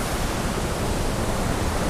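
A roaring waterfall heard up close, a continuous, loud, even rush of falling water with no other sounds.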